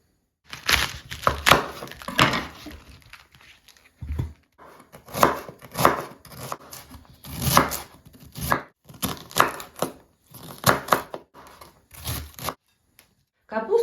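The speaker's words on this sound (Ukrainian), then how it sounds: "Далі будемо нарізати капусту." Repeated crisp knife chops through crunchy cabbage on a board, coming in quick irregular bursts with short pauses, close and fairly loud.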